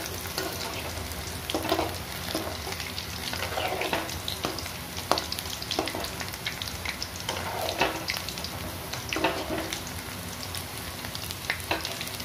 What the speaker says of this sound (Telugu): అన్నీ కట్టి పెట్టి ఒకటేసారి ఇట్లా నూనెలో వేపుకోవాలి.